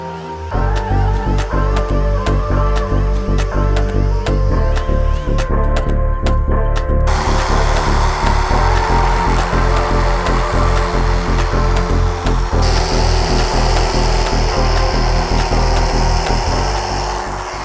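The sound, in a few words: grinder shaping Harley motorcycle seat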